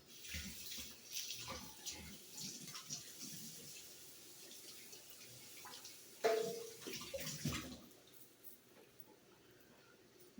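Running water rinses a knife at a kitchen sink, a steady splashing stream with a louder burst of spray partway through before settling back down.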